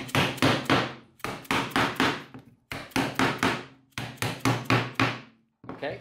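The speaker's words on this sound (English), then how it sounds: "And then from there, you just hammer them in place." PVC pipe tubing pieces for a 3D printer filament rack being hammered together, a steady series of loud, sharp knocks in quick groups of three to four with brief pauses between, no voices.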